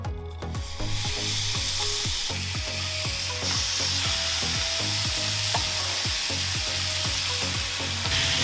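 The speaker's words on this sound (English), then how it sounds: "we'll get on the flat plate first, just to render that bacon" Bacon-wrapped chicken sizzles loudly and steadily on the flat plate of a Weber Baby Q grill, a dense continuous hiss with regular faint ticking and pops throughout.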